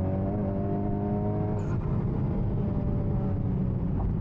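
An upgraded Honda Civic Type R accelerates hard in second gear toward 170 km/h. A loud, steady engine drone rises continuously, with a brief change in the note partway through and no speech.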